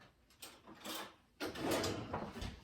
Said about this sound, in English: Whoops, wrong drawer.